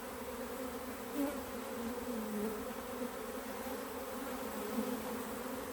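A steady, dense hum of many honeybees buzzing close by around a hive preparing to swarm, with many drones present, continuous and even, with small swells in volume and no voices.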